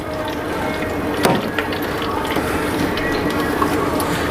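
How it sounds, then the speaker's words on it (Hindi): Water from an RO water purifier falling into a bottle, making a continuous trickling hiss broken by a few sharp, irregular ticks and drips, close and fairly loud. "ये पानी देखिए गिर रहा है, बोतल पर ले रहा हूँ।"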